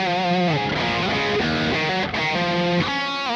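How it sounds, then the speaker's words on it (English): Crunchy, distorted electric guitar soaked in a big reverb, playing a rock riff, with sustained chords and sliding notes ringing loud and continuous throughout. "let's add some reverb. This is about how much reverb there is."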